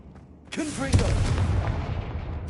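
A fire blast spell is cast in the game Hogwarts Legacy: a voice rings out, then a sudden close booming burst that keeps roaring and crackling to the end.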